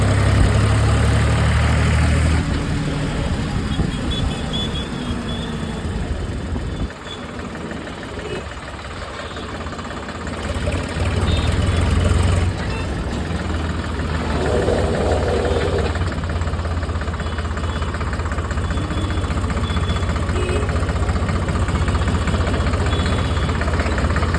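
A tractor's diesel engine idles at a petrol pump, a steady, loud mechanical drone with a knocking rumble that holds almost unchanged throughout, dipping briefly midway, with no talk over it.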